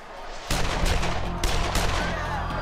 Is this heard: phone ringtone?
no